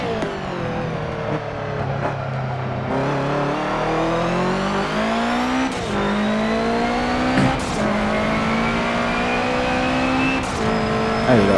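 Racing car from the video game Forza Motorsport 7, engine droning loudly and continuously with rising and shifting pitch through gear changes, accelerating steadily with brief tire squeal as control is lost, no talking.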